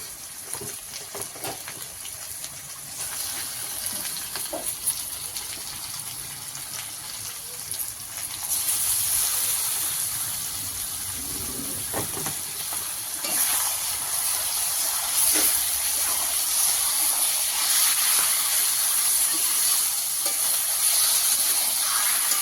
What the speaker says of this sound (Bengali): সেদ্ধ করে রাখা কচুগুলো এর মধ্যে দিয়ে দেওয়া হবে